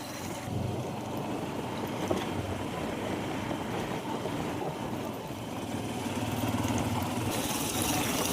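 Steady engine drone of a motorcycle on a rural road in Andhra/Telangana countryside, continuous and fairly loud with wind rumble, no talk heard.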